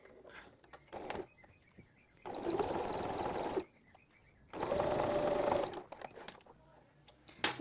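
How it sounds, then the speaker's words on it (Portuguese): A straight-stitch sewing machine runs in two sustained bursts while stitching bias binding onto a garment, a steady mechanical whir close by, separated by quieter handling clicks and rustles. "a gente vai aqui pra máquina reta e vai fazer o acabamento em viés"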